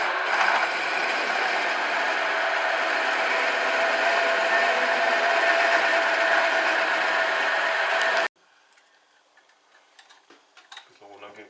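A mini mill drills into steel with a 9 mm bit, giving a steady, loud whirring and grinding hum for about eight seconds before cutting off, followed by faint ticks and small clanks.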